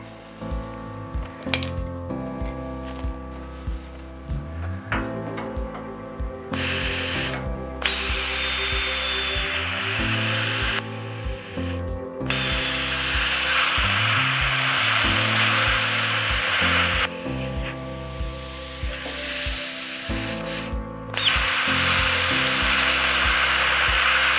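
A cutting torch cutting metal on a homemade bucket grapple, a loud, harsh hiss that starts and stops in long bursts over a steady machine hum, close up with no talking.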